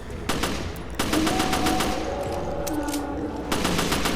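Rapid bursts of automatic gunfire ring out in the video game Resident Evil Revelations, three dense, loud volleys separated by brief gaps and set over game ambience.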